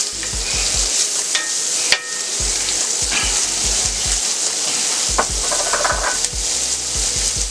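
Chopped onion sizzling loudly in a hot pan of pork chop drippings, a continuous bright crackle and hiss with occasional soft knocks from a utensil stirring against the pan.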